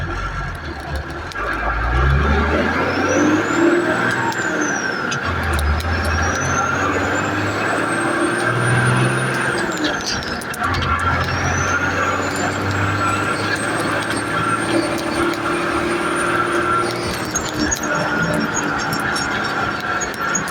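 A high, rising and falling HX40W turbo whistle sings over a loud, steady multifuel diesel rumble from an M35A2 military truck with a silencer ring, sweeping up and down several times.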